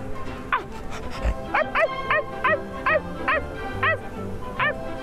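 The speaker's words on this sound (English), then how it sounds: "Tell me if you like dogs now." A small dog gives a close, steady run of about eight sharp, high yips at even intervals, with a faint muffled background between them.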